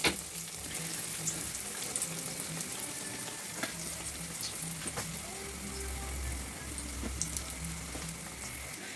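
Kefir dough pastries frying in hot oil, a steady bubbling sizzle close by with scattered pops and crackles running throughout.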